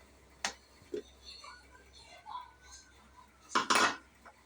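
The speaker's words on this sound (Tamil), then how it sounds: "இப்போ வந்து குக்கரை ஓப்பன் பண்ணிடலாம்" A pressure cooker lid is opened in a home kitchen while making tamarind rice: a sharp metallic clack, quiet scraping and shuffling, then a louder burst of clattering metal near the end.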